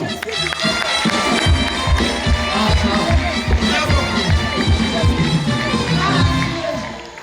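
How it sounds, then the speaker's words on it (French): A church congregation at a French-speaking prayer service acclaims and cheers together, a loud, dense crowd roar that holds steady throughout, driven by rhythmic low thumps like clapping or stamping. "Acclamation."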